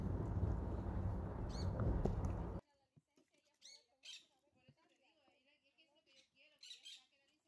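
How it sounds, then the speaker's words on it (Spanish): Parakeets squawk in short, scattered, fairly faint calls after a burst of loud broadband noise at the start, with a few isolated clicks in between. "Y aquí también tenemos lo que es unos pericos."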